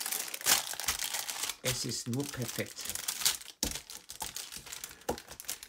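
Plastic packaging of a Lego Ninjago magazine crinkles and rustles in bursts while being unpacked, close and fairly loud, with someone speaking German over it.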